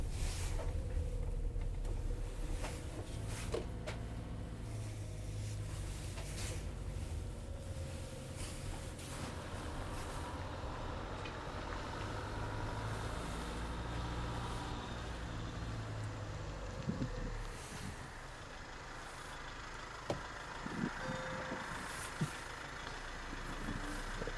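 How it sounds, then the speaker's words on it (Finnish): A Concorde Carver 890 RRL motorhome rolls over a gravel road, its engine a low steady drone beneath scattered crunches and occasional sharp clicks and knocks, fairly quiet throughout. "ihan miellyttävä kokemus tää hiekkatiellä ajaminen tässä"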